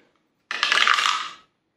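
A ten-sided plastic die is rolled once on a hard surface, giving a short, close clattering rattle lasting about a second before it settles into silence.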